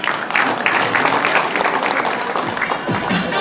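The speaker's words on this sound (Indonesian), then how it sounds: "Disambut dengan riuh tepuk tangan dari kita semua." An audience at a record-award ceremony breaks into loud, sustained applause, dense clapping filling the hall from start to finish with some crowd noise mixed in.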